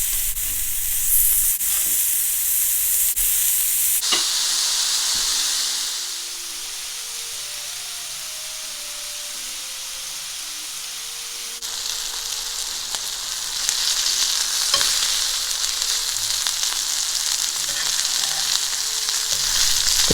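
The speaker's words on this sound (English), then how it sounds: "cook them for another 2 minutes on the other side" Sausage patties frying in a pan give a loud steady sizzle, which dips quieter for a few seconds while they are turned and then rises again, with faint scrapes of a spatula.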